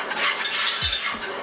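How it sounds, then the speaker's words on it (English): A whisk scrapes and stirs flour and spices into a pan of garlic for a mac and cheese paste, with steady close swishing, a light sizzle underneath and a brief metallic clink of the whisk against the pan. "Give it a good whisk and it come together"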